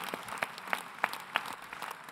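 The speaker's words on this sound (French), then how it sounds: "Un tonnerre d'applaudissements pour Nathalie." Delegates at a union congress applaud, loose crowd clapping with a few sharp, louder claps standing out at a steady beat.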